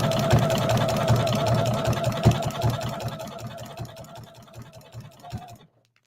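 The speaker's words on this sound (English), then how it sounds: "I'm going to drop my needle and just do a few stitches, a little back stitch." A sewing machine stitching a few back stitches on an appliqué beach towel, a close, fast, even mechanical whir that runs steadily, then slows slightly, fades and stops near the end.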